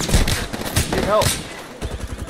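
Rapid automatic gunfire in the PC shooter Apex Legends rattles loud and close throughout, with a player's voice talking over the shots.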